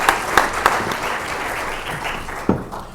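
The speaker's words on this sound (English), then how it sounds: "how about a round of applause for the staff here at the Arvada Center" Audience applause for staff at an Arvada Center city council election forum, a steady patter of many hands with a few sharp, close claps standing out near the start and again later, fading slightly toward the end.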